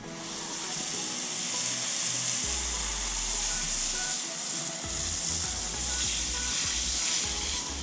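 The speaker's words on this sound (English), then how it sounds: "And now we rinse off." Water spray rinsing Patterson Car Care Brake Dust Pro cleaner off a car wheel, a steady close hiss with a low rumbling undertone running throughout, no talking.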